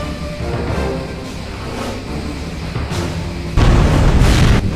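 A starship explodes in the game Star Trek Bridge Commander, a loud, sustained rumbling boom that swells, then jumps louder toward the end, heard alone without speech.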